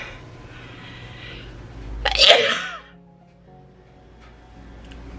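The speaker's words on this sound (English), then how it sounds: "sorry, I had to sneeze" A single sharp sneeze bursts out close by after a quiet breath, followed by calm background.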